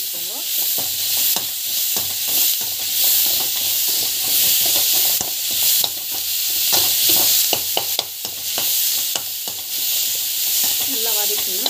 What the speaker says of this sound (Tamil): நல்லா டமாட்டோ வந்து ஆட் பண்ணிக்கோங்க. நல்லா வந்து வதக்கிட்டுக்கோங்க.